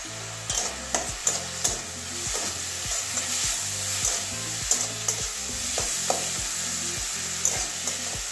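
Cumin and coriander powder fry in a pan for potol dorma, with a quiet sizzle under a steady series of sharp spatula scrapes and knocks. A low hum runs in the background.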